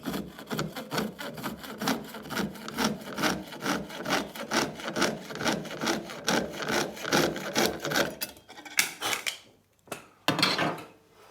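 A hand saw blade cutting a block of cellulose acetate plastic, steady rhythmic back-and-forth rasping strokes up close, ending in a few separate scrapes after the cut.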